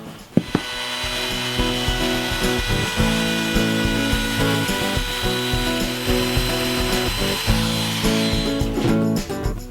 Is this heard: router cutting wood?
yes